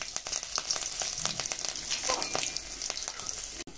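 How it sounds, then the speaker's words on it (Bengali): Green chilies, dried red chilies and nigella seeds crackle and sizzle loudly in hot oil left from frying tangra fish, a steady dense frying hiss with sharp pops throughout. "মাছ ভাজার তেলে দিয়ে দিচ্ছি ফোড়ন, কাঁচা লঙ্কা, শুকনো লঙ্কা আর কালো জিরে।"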